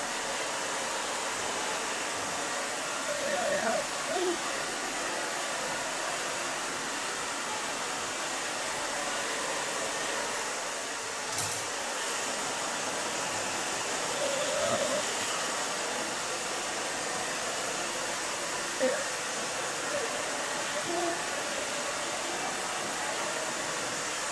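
A hair dryer blows a steady airy whoosh through an Epic brush during styling of a pixie haircut, constant and moderately close, with faint brushing movements.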